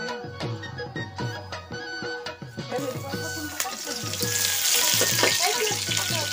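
Onions and pork frying in hot oil in a home kitchen, a loud hiss that builds toward the end, with clinks and clatter of utensils against the pan and running-water-like sizzle throughout.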